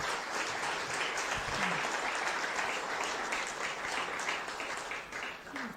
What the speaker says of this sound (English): Please share your round of applause with gratitude.